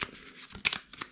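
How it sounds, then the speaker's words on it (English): A deck of event cards for a board game being shuffled close up, with quick riffling bursts and soft slaps in an uneven rhythm over about a second. "So I'm going to shuffle my event cards here"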